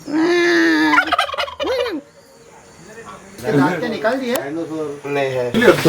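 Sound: birds calling at a farm

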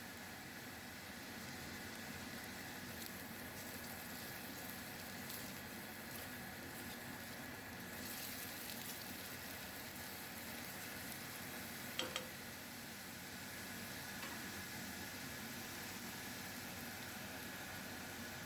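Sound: onion sizzling as it is sautéed in olive oil

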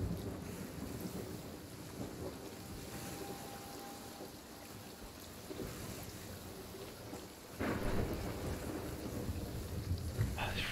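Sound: rain and thunder in the video game The Hungering Deep

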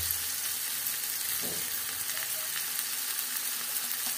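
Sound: frying tomatoes, chillies and spices for dosa filling in pan

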